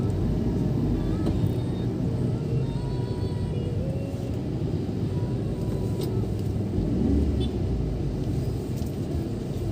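Car driving through city traffic in Semarang, Indonesia, following another vehicle past motorcycles: a steady, close low engine and road rumble with a constant hum and no breaks.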